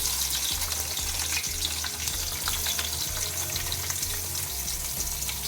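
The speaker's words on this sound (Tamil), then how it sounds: "அடுத்து நம்ம இப்போ வெங்காயம் போடுறோம்." Onions sizzle and fry steadily in hot oil in a pan for a home-cooked chicken biryani, a dense continuous crackle with occasional stirring scrapes and no talking.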